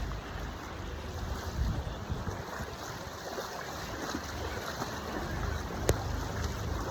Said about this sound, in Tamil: கம்மாவிலேருந்து இந்த தண்ணி ஓடி வருது.